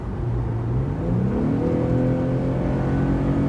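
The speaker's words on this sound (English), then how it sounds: "Here's a downshift. 3, 2, 1, go." An Infiniti G37x coupe with a 7-speed automatic downshifting and accelerating: a steady engine note heard from inside the car, rising in pitch as it pulls, with no talk.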